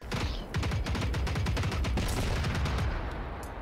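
Rapid gunfire and rocket launches in the robot-hunting shooter Generation Zero, a dense stream of close, loud shots rattling continuously for several seconds with barely any pause.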